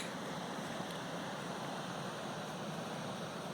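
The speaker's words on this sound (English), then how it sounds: "This is the spillway that comes off Blue Marsh Lake" Water rushing over the Blue Marsh Lake spillway on Tulpehocken Creek after a night of rain, a constant broadband roar heard close and steady with no pauses or talk.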